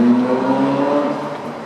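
A race car engine drones at the Monaco Grand Prix hairpin in Monte Carlo, as the cars slow to about 30 mph. The steady, fairly loud motor tone holds, then eases slightly as the car moves off.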